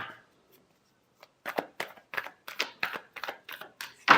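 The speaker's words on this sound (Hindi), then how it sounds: "Last shuffle." Tarot cards shuffled by hand: after a quiet start, a run of quick, crisp riffling bursts comes in a steady, close rhythm, with no talking.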